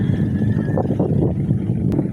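Strong wind buffets the microphone out on open water from a fishing boat, a steady loud rumbling roar with low gusting noise filling the whole stretch and no voices.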